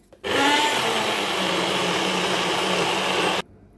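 A blender grinds Goan prawn pickle masala with water, a loud, steady whirring roar that starts abruptly, runs for about three seconds, then cuts off.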